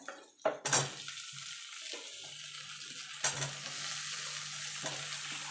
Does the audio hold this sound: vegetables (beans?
yes